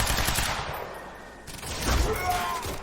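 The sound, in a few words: gunfire in the video game Quantum Break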